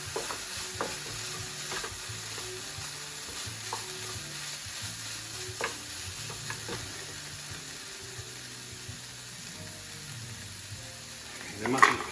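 Mushrooms frying in a wok for beef chow mein, stirred with a steady low sizzle and scattered scraping clicks of a utensil, with a louder clatter near the end.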